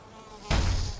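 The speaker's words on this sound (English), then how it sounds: "Much deal with these mosquitoes." Mosquito buzzing in the video game Valheim, a sudden loud insect drone that starts midway and holds steady to the end.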